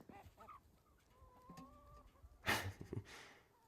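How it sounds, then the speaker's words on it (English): Backyard chickens cluck and chatter at close range, with short calls, one drawn-out warbling note, and a sudden loud rustling burst near the end. "Here's the girls with the chickens."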